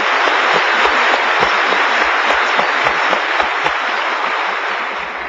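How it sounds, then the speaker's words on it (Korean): A church congregation bursts into loud, sustained applause during a sermon, with many hands clapping in a continuous roar that tapers slightly at the end. "우리 하나님께 박수로 감사합니다."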